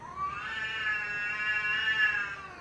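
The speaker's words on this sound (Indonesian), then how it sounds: "diiringi suara kucing lagi gelut" A cat lets out a long, rising and wavering yowl, a loud caterwaul held for over two seconds with no other sounds.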